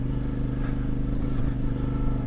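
A CF Moto IBEX450 motorcycle engine drones steadily at cruising speed, a close, continuous rumbling hum with slight rises in revs while riding through a parking lot.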